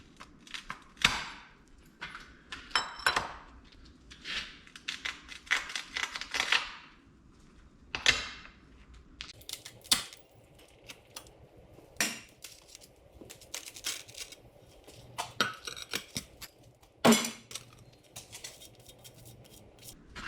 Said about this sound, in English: I'm ready to remove these sections of glass and retrieve the circle from inside.